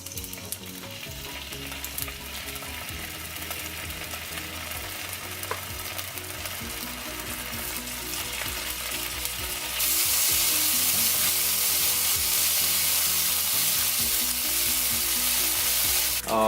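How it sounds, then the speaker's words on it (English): Streaky bacon frying in a pan, a steady close sizzle with faint clinks beneath, growing louder and denser partway through as the fat spits harder, with no voices. "Now I'm just going to simply fry off the bacon."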